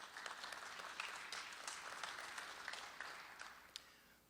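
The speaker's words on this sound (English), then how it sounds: "So give them a round of applause." Audience applause at a business wealth summit, a steady sustained wash of many hands clapping from start to finish, gradually easing toward the end.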